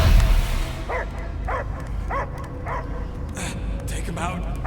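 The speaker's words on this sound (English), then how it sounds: "I hear only barking" Repeated dog barks from the Marvel's Guardians of the Galaxy video game, five or six short evenly spaced yelps over steady background game noise, with no talk among them.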